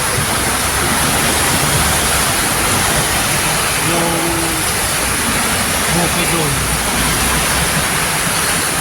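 Dense, steady roar of heavy rainfall fills the whole clip, loud and unbroken, with someone speaking briefly underneath.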